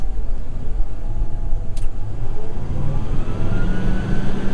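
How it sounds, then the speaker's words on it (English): A loud, steady mechanical roar of a cotton picker's large fan winding up close, with a deep engine rumble underneath and no voices. "There's nothing better than the sound of the fan on a cotton picker winding up."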